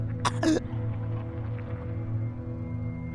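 Two quick, harsh coughs sound close and clear near the start of the horror video game It Paints Me, followed by a low, steady ambient drone with no speech.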